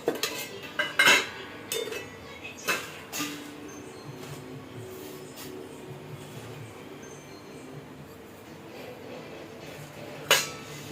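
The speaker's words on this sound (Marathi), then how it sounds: "तर चहा झाला की मग मी एकदमच सगळे भांडे घासते." Dishes being washed by hand: clinking cutlery and knocking pots and pans at irregular intervals over a low background hiss.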